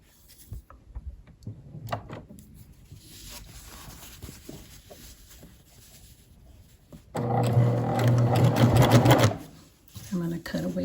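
A coverstitch sewing machine runs a 1-inch hem in a single loud, steady burst of rapid needle chatter lasting about two seconds, with quieter handling noises and a voice before and after.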